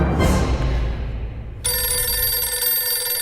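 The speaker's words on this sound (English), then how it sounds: "How the phone booth in our street survived the bombing somehow. It seems ringing right now." A payphone in a street phone booth in the video game 60 Seconds: after a muffled rumble fades, a loud electronic bell ring starts abruptly and continues steadily, close and clear, with no talk over it.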